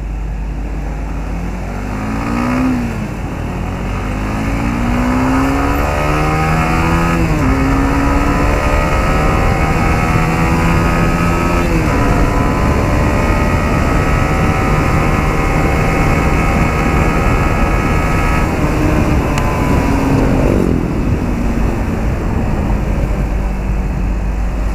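A 2016 Honda CBR150 motorcycle engine revs up through the gears on a road test ride, loud and close, with rising and falling harmonic sweeps as it climbs to speed and shifts, over steady wind and road rumble.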